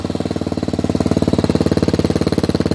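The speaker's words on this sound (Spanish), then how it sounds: "mostrándoles sonido tubo de escape doble salida" A car's dual-outlet exhaust with a silencer fitted burbles at idle, recorded close and loud as a rapid, steady pulsing throb with a smooth, even rhythm throughout.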